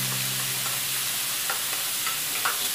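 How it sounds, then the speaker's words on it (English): Onions sauté in a pan for a pasta with creamed brown sauce, a constant dense sizzle up close with faint scrapes of stirring and a low background hum, no talking. "Now we have to saute the onions until translucent"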